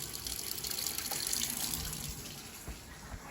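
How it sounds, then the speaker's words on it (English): Continuous rushing of water flowing from a tap into plumbing pipes, steady and fairly loud, with occasional faint knocks in the background. "We got some water filling."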